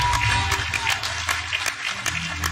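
A church congregation applauding, a modest spread of scattered hand claps under a sustained low musical drone, moderately loud and continuous for a couple of seconds.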